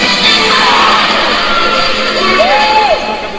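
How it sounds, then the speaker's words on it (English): A big crowd cheers at a weightlifting championship as North Korean lifter Kim Kwang-song walks out, with loud, steady applause, yells and whoops that carry on throughout. "gets a big cheer"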